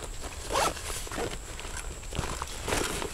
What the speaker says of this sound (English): Separate zipper so you can segment that area off.